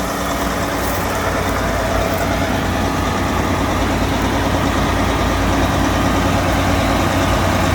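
A John Deere tracked tractor's engine runs steadily up close, a dense, low diesel rumble that holds without pause, with no voices over it.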